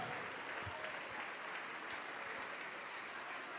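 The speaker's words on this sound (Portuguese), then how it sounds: "E vamos aplaudir ao Senhor Jesus" Steady applause from a church congregation, continuous clapping that holds at an even level throughout.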